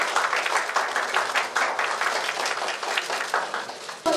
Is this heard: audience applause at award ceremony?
yes